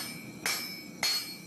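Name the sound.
blacksmith hammer forging an all-steel tomahawk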